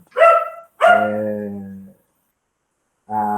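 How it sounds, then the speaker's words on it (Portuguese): A dog barks loudly and close by indoors, giving two drawn-out whining barks in quick succession, then a third after a brief silence. "Resolveu latir aqui agora."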